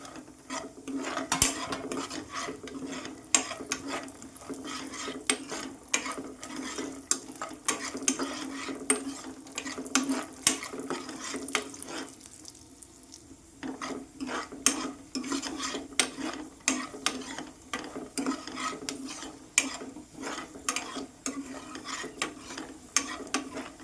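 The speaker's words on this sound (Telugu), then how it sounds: "ఇవైతే సగం వరకు అయితే ఫ్రై అయిపోయాయి కదా ఈ కిస్మిస్ కూడా వేసేసుకుందాం" Dry fruits and raisins frying in a pan for bread halwa, stirred constantly, with a steady soft sizzle under repeated clinks and scrapes of a spoon against the pan, close and moderately loud, with no talking.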